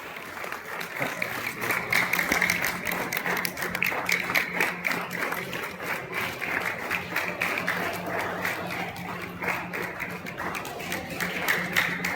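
Audience applause at a Gujarati community award and prize-giving ceremony: dense, sustained clapping from a crowd, steady and loud across the whole stretch with no pause.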